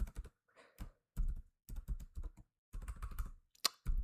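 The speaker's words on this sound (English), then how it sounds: "I'm not used to typing on my actual keyboard." Typing on a desktop computer keyboard, crisp clicking keystrokes in clustered bursts separated by short pauses, close and clear with no voices.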